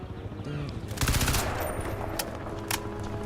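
Rapid gunfire in the video game Crysis 2, an automatic rattle starting about one second in, with a few sharper sharp shots afterward amid game background noise.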